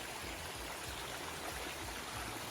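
Mountain stream flowing steadily beside the Appalachian Trail near Rockfish Gap, a continuous broadband rush of water with no voices, close and even throughout.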